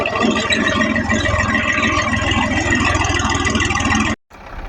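A tractor engine idles with a steady, loud, low rumble close by. It runs without a break for about four seconds, then cuts off suddenly before a quieter hum resumes.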